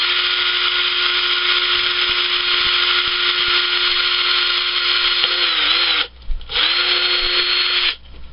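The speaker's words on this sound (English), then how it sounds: "Okay, so now we're going to do the drill." Steady whine of a power drill boring holes into a plastic mantis container, running nearly continuously at close range before two short pauses and restarts near the end.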